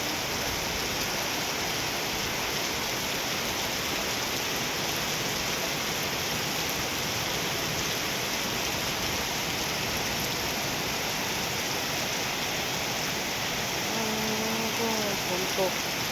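Heavy storm rain pours down in a steady, dense hiss that never lets up, loud and close, with faint voices briefly audible near the end.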